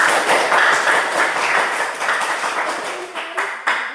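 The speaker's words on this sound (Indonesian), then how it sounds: "Beri tepuk tangan kepada kelompok 3" Classroom audience clapping for the third presentation group, a loud burst of many hands that gradually thins out over four seconds, with a few distinct claps near the end.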